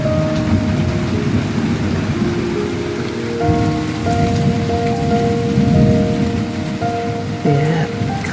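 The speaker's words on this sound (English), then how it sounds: "we've got some rain," Steady rain falls on surfaces with a low rumble of thunder rolling underneath, loud and continuous throughout, with no voices.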